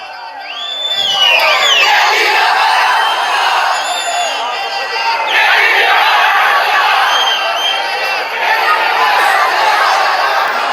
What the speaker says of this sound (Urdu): عمران خان کے حق میں شدید نعرے بازی